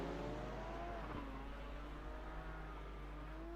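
Engine drone of a Porsche race car in a sim racing game at the Iowa Speedway road course, a steady faint hum with shifting pitch as the car spins out.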